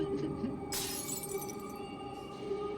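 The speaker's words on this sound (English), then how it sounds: "That's the sound of Mac fucking stepping on something glass and just shattering it." Glass shatters as a foot steps on something glass, a bright crash that rings on and trails off over a steady low background hum, with a second smaller tinkle near the end.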